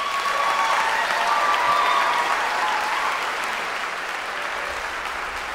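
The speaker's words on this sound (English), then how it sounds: "I'd love for them to receive their first round of applause for this event" Steady applause from an audience at a fall choral concert, sustained and fairly loud with a dense even texture throughout, easing off slightly toward the end.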